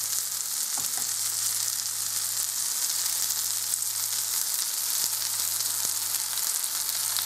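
Syrniki, cottage cheese pancakes, fry in a pan with a steady, crackling sizzle of hot oil that stays even throughout, with occasional small pops and no talking.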